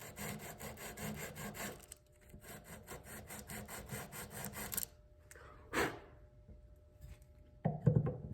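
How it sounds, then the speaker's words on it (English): Coarse 80 grit sandpaper rubbed back and forth over a wooden rifle foregrip on a Marlin Camp 9, a fast rhythmic rasping for about five seconds, then a few separate strokes and brief handling noise. "some 80 grit, some real coarse sandpaper right here"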